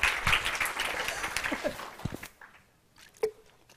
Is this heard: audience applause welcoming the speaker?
yes